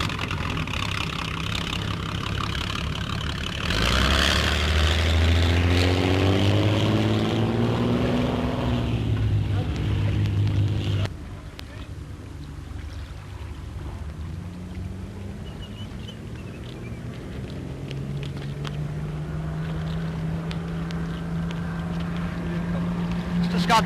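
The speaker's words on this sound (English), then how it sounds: "Scott-Paine is just going to give you an idea of what Miss Britain 1 can do in the way of speed" Miss Britain I, a wooden-framed British motor torpedo boat developed by Hubert Scott-Paine, runs at speed, its engine roar rising in pitch and loudness before dropping away to a lower steady drone.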